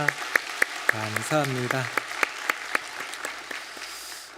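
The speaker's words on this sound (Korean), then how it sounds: "우리 찬양대 박수로 다시 한번 격려하겠습니다." A church congregation claps for the choir during a Sunday worship service, with evenly spaced, fairly sharp claps running steadily under a voice speaking briefly.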